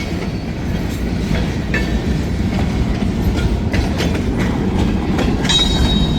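A freight train led by an SD9 locomotive rolls steadily past close by, a continuous heavy rumble with rhythmic wheel clatter and occasional metallic squeals.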